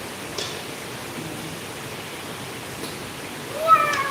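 Heavy rain pours down in a steady, even hiss that fills the whole stretch, with a few faint brief sounds over it and a slight swell near the end.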